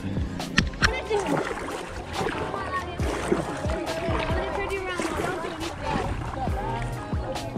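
Kayak paddling on a summer camp lake, close splashes and sloshing water with repeated paddle strokes, while people talk over it.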